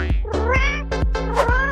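A kitten gives a quick run of about five high, tonal meows in close succession, loud and near, with no voices.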